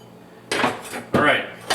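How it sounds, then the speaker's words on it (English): A knife chopping split celery on a board, two or three crisp, close cuts that each crunch and then trail off. "I just split a piece of celery and then cut it like that to get your pieces."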